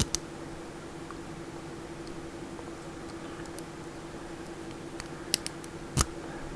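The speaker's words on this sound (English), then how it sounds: "That click click click" Picking a Master Lock M5 or M15 padlock produces faint, sparse metallic clicks over a low steady hum, with a few sharper ticks clustered near the end.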